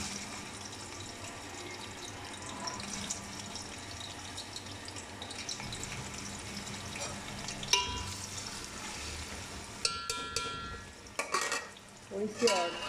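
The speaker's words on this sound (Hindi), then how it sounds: "मैं थोड़ी थोड़ी करके प्याज ब्राउन करूँगी, सारी नहीं डालूँगी ना।" Onions brown and fry in a pan with a steady sizzle as they are stirred, with scraping and clattering from the utensil and a few louder knocks toward the end, heard up close.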